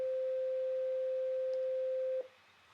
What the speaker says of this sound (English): Sine wave is just shooting out one frequency.